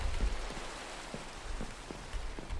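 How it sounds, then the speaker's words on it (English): Rain in the video game Minecraft, a constant soft hiss of falling rain with scattered heavier drops pattering irregularly, moderately quiet and without speech. "Oh, it might just be raining, in which case day's over"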